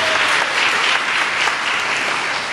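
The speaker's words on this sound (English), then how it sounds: "Can we give our young people another round of applause?" A church congregation at a Sunday worship service claps for its young people, a loud, dense burst of many hands close by, steady and unbroken throughout.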